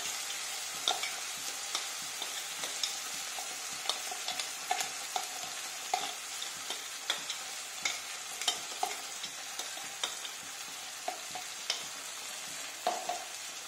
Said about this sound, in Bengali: এবার পেঁয়াজটা বেশ লাল লাল করে ভাজা ভাজা হয়ে গেছে।